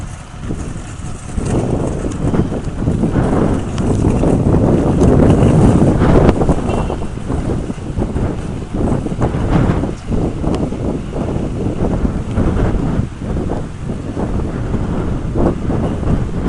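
Strong hurricane wind roars outdoors in New York City during Hurricane Irene, buffeting the microphone with a heavy, continuous rumble that swells and eases in gusts.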